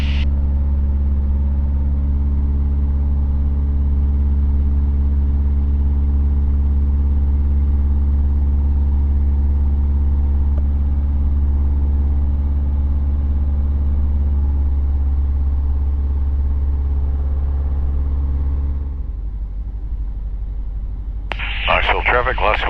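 A Luscombe 8A light aircraft engine drones steadily in flight, a loud constant low hum that drops off near the end as a voice speaks over the radio.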